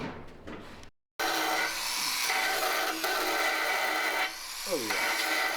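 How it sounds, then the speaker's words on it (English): A small handheld micro sander works over a surface on a Razor Crazy Cart, making a steady, close raspy whir that runs for several seconds after a brief pause, with a short scrape near the end. "Here's a micro sander."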